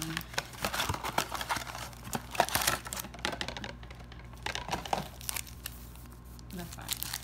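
Garbage Pail Kids 'We Hate the 80s' trading card sticker packs being torn open, with crisp crinkling and ripping of foil wrappers in irregular bursts, close and fairly quiet, while a person speaks.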